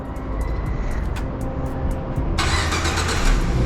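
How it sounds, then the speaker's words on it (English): Car engine cranking and catching, a low rumble that bursts into a louder steady idle partway through, close by with no talking. "turn the car on."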